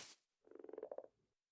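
A frog croaks in Minecraft Bedrock Edition: a quick, rhythmic run of about a dozen low pulses that swells and then fades, quiet and alone, after a short burst of noise.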